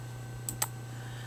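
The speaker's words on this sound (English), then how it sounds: "I'm going to click on it and press D on my keyboard." Two quick, faint key clicks on a computer keyboard, a single keypress of the D key, over a steady low electrical hum.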